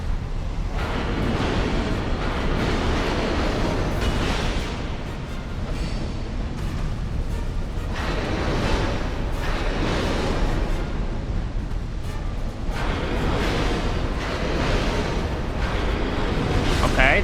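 The Forge Demon boss in Dark Souls 2 sets off a long, rumbling fiery explosion that roars continuously with repeated heavy surges of booming noise, loud and up close amid game combat.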